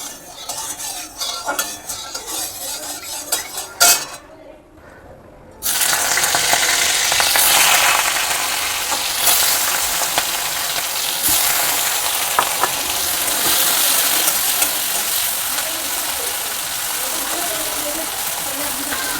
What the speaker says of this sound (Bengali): আমি প্রথমে আগে মাছটা ভেজে নেব